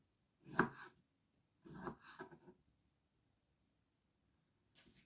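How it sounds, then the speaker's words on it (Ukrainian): A knife cuts pumpkin into small pieces: two or three quiet, crisp chopping strokes close by, with a short pause between them and a faint final cut at the end. "нарізаємо такими кусочками, щоб він швидше"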